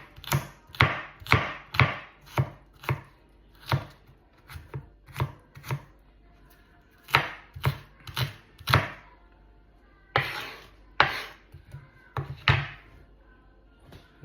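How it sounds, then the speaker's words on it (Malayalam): Onions for a Kerala-style chicken curry are sliced with a knife on a board: crisp, close chops in quick uneven bursts with short pauses between. "ഞാൻ ഇറച്ചിക്കറി ഉണ്ടാക്കുമ്പോൾ ഇങ്ങനെയാണ് ഉള്ളി അരിയുന്നത്."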